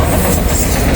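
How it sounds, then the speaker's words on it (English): A train rolls past very close and loud, a dense roaring rumble of wheels and cars on the rails with no break, heard at a trackside spot in the morning. "this train's throwing off some breeze"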